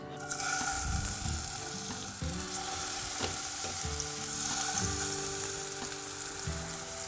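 Steady crackling sizzle of burger patties frying in a hot oiled pan, continuous and close, with a few soft clinks and scrapes in the pan.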